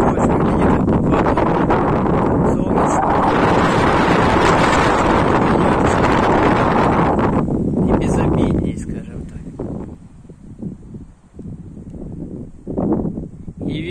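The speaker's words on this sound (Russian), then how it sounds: "Ветер такой наскоками," Strong gusty wind buffets the microphone on a mountain trail above Yalta in Crimea, roaring steadily for several seconds before easing into weaker, intermittent gusts.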